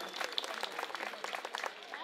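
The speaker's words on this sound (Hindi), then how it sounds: "हमारे विधायक जी के लिए भी एक बार जोरदार तालियां बजा दीजिए" Dense, sustained clapping from a large crowd at an open-air political rally in Delhi's Adarsh Nagar, loud and continuous throughout.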